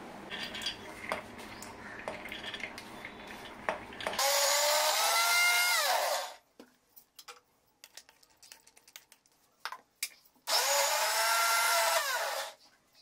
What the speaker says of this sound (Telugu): ఇప్పుడు ఈ శనగపప్పుని మిక్సీ పట్టుకోవాలండి పౌడర్ లాగా.